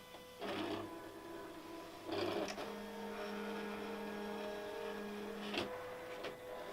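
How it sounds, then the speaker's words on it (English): A ProtectionPro Express machine prints and cuts protective film, giving a quiet, steady mechanical whirring hum with sharp clicks and motor starts and stops at intervals, heard alone without talk. "And as you can see, immediately the machine begins to print."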